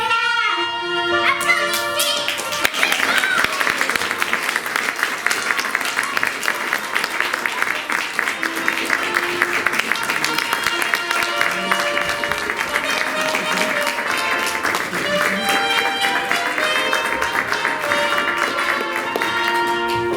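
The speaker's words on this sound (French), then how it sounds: "Applaudissements." Applause from the audience at a children's show, steady dense clapping lasting throughout, with music tones and some voices underneath.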